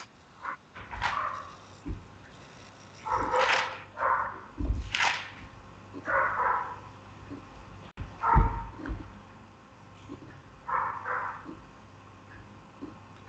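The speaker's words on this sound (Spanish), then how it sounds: "hay un perro ladrando" A dog barks in short separate bursts, somewhat distant, spread across a church gathering's quiet room with no talking.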